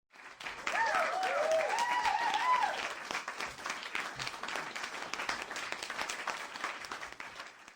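An audience at a stage talk gives a sustained round of applause, dense clapping that swells at first and then thins out, with a voice briefly heard near the start.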